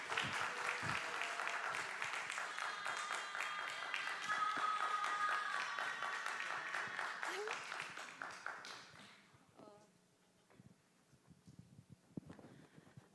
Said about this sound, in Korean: 저희 팀장님들 올라오실 때 박수 부탁드립니다.